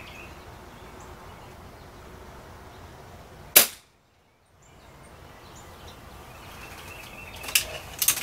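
A Benjamin Prowler .22 air rifle fitted with a cheap monocore silencer fires a single sharp, fairly quiet pop over faint outdoor ambience, followed later by a few softer clicks.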